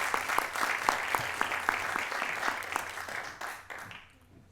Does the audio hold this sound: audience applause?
yes